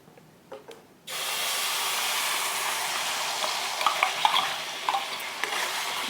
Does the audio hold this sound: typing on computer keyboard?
no